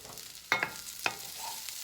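Breakfast hash in a pan with added bacon fat: a quiet, soft sizzle under a few sharp scrapes and taps from a utensil moving the food around.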